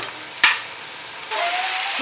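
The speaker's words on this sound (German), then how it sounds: "Es gibt so eine Pfanne mit Hühnchen und Zucchini und ich habe das mit Kokosöl angebraten." Chicken and zucchini frying in coconut oil in a pan, a soft sizzle with a sharp stir or clatter early on, then a louder steady hiss in the second half.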